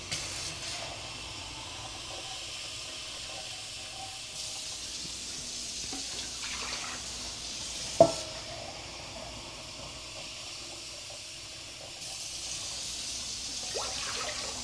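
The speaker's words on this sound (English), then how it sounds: "So I'm just going to put some water in the crock pot." Water poured into a crock pot, a steady soft hissing stream running for several seconds alone at moderate level, with a brief sharp knock partway through.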